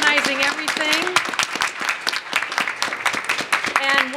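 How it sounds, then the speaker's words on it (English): Applause from a conference audience at a trauma-informed schools event, steady dense clapping throughout with voices mixed in. "And a big round of applause for Sherry and Sandy."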